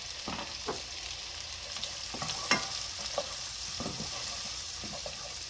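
Onions frying in a pan for chicken meatballs in a cheesy cream sauce, a soft steady sizzle broken by scattered scraping stirs from a utensil, fairly quiet and close with no talking.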